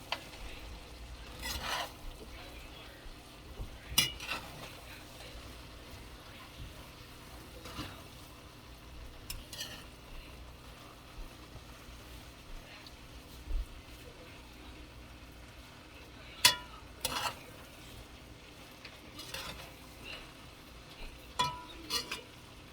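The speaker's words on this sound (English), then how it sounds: "you don't want to over mix this, so we're just gonna mix it lightly" Butter chicken biryani with rice gently stirred in a pan, soft scraping and occasional spoon clinks against the metal over a low steady sizzle, unhurried and close.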